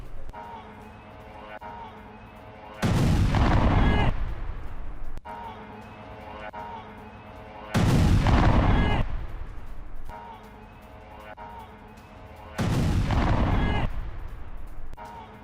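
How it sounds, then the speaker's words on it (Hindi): Explosions and gunfire from a drone attack on a US military base in Manama, Bahrain, come as three loud, long booming bursts a few seconds apart, with quieter rumbling stretches between them. "बहरीन के मनामा में अमेरिकी बेस में विस्फोट, ड्रोन हमले से दहला अमेरिकी सैन्य बेस"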